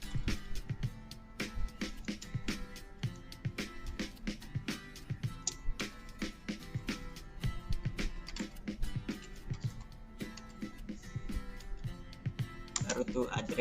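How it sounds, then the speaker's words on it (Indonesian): Fingers type an address on a computer keyboard, producing a steady stream of quick, close clicks with brief pauses between bursts, and a voice is faintly present. "Oke, baru kita mengetik addressnya."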